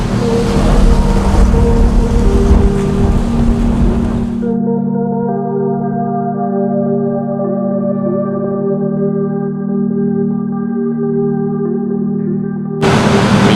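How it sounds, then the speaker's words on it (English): Typhoon wind and heavy rain roar against a ship off Cuyo Island in the Philippines, loud and dense, then cut to a quieter interior with a steady low engine hum and tonal drone before the storm noise returns briefly. "We are in freaking typhoon, guys."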